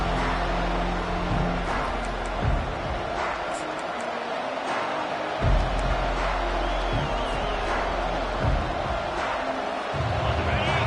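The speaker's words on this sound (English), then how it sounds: "This crowd bringing an ear-splitting welcome to their visitors." A football stadium crowd roars a loud, sustained welcome to the visiting team, a broad wash of cheering with swells, under a commentator's voice.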